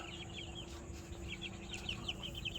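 Game fowl chickens in a brooder cluck and chirp in short repeated calls over a steady background hum, fairly faint and distant.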